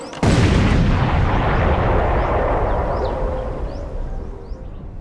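A landmine is destroyed in a controlled detonation near Cambodian temple ruins: one loud, sudden blast booms out and then rumbles and decays slowly over several seconds, with nothing else heard.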